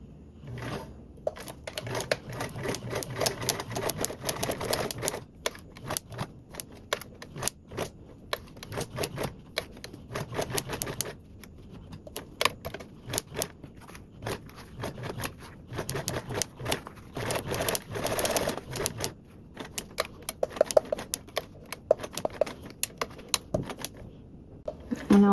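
A sewing machine stitches slowly around a fabric circle along a marked line for a snack sack, giving irregular bursts of rapid clicking and whirring with pauses and handling noises throughout.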